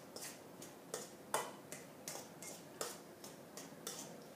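Mashed salmon seasoned with salt and pepper is stirred in a bowl, producing a faint, even series of light clicks and taps roughly twice a second.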